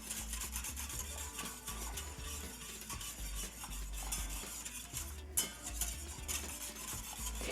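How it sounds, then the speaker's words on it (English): A whisk working pastry cream in a pot on an electric cooktop, continuous rhythmic scraping and rubbing strokes against the pot, steady and close. "So you can see I'm whisking constantly,"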